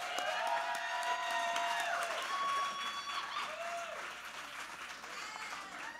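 An awards show audience applauds and cheers in a steady, dense wash of clapping that fades slightly toward the end, with some whooping voices and crowd noise mixed in.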